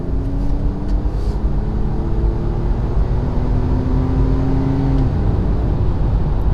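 A Toyota FJ Cruiser accelerating onto a highway, heard from inside as a steady engine drone that climbs in pitch through the gears, with a shift near the end and constant road rumble.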